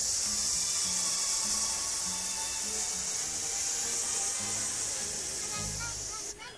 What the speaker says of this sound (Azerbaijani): Burundan alırıq, ağızdan ötürürük S hərfinə.